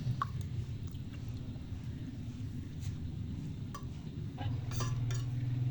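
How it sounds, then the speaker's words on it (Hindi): A spoon stirs custard powder into a mixture, soft steady swishing with scattered faint clinks against the bowl, close and quiet, no talking. "4 चम्मच कस्टर्ड का पाउडर शामिल करेंगे। अब इसको अच्छी तरह मिक्स करते हैं।"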